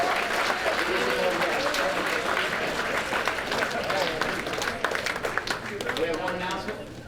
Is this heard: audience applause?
yes